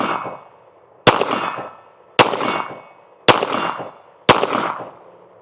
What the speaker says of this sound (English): Let's try shooting the Archon at 50 yards.